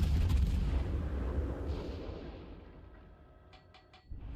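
Heavy battleship guns boom in a naval battle game, a loud broad low rumble that slowly decays, followed near the end by a few short sharp cracks of smaller distant shots.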